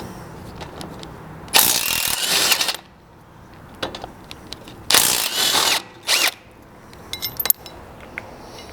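A ratchet with a 17 mm socket loosens the two bolts of a rear factory tow hook on a Lexus GX460. Three loud bursts of rapid clicking are heard up close, with quieter metallic clinks between them.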